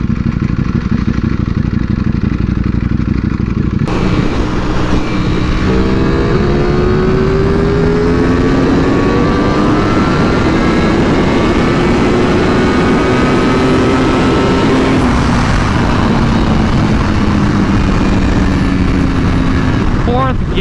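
A stock Ducati V4R motorcycle engine revs hard under acceleration through the gears toward its 16.5k redline, loud and close with rising, climbing engine tones across several shifts.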